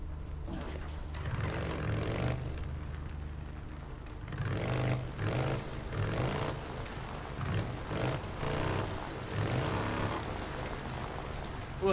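A motorcycle engine in the video game Days Gone drones steadily with rising and falling revving surges, a broad rumbling mechanical noise over a continuous background.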